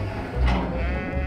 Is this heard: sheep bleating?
yes